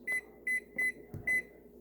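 Electronic kitchen timer on a home cooking set being keyed in, four crisp, loud, evenly spaced beeps close by, with a soft knock between the last two.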